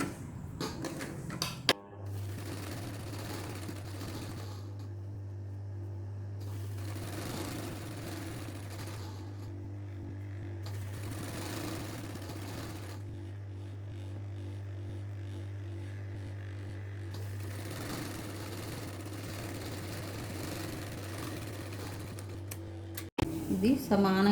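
An electric sewing machine stitches a blouse in a long, steady mechanical hum with a fast rhythmic needle patter, close and continuous, pausing briefly near the start and at the end.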